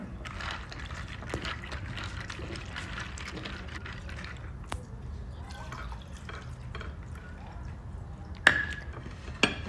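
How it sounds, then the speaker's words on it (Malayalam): Walnuts, figs, cashews, raisins and pistachios being rinsed in a bowl of water in a kitchen, giving soft continuous sloshing and dripping with a few light clinks near the end, no talking. "കുറച്ച് വെള്ളം ഒഴിച്ചിട്ട് നമുക്കിതൊന്ന് കഴുകാം"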